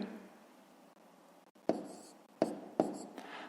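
A pen writing on paper while working a grade-5 multiplication exercise: a faint scratchy stroke early, then three distinct scratching strokes, close and quiet, with no talk.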